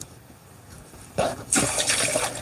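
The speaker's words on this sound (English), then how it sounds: "while I'm getting her some fresh water" Fresh water runs from a tap into a pet's bowl, starting abruptly partway through and continuing as a steady, close splashing pour with a brief pause before it resumes louder.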